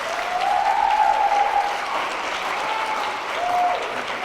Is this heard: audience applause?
yes